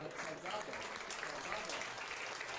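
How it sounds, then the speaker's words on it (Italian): A crowd at a Serie D football match applauds an injured player, dense clapping sustained evenly at a moderate level, with a commentator talking over it. "Gli applausi che ora sentite sono per Dojaga"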